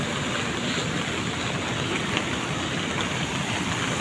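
The swollen Tinau River in Butwal rushes along during rain, a constant broadband roar of flowing water with no breaks, heard alone without any voices.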